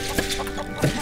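Chicken clucking in the video game Lego Worlds, two short close clucks about half a second apart over a constant background hum.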